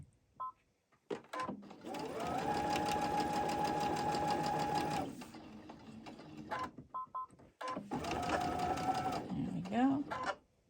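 A sewing machine chain stitches rows of quilt star blocks in two long, steady, loud runs separated by pauses with small handling clicks, and a voice is faintly present at times.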